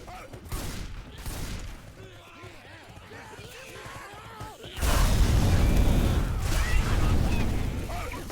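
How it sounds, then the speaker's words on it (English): Explosive barrels being shot in a Left 4 Dead 2 competitive match, a burst of booms and crackling fire rising loudly midway and sustained, with game clatter and a commentator talking over it. "So shooting the barrels behind, creating a firewall there, killing some comp to help them out."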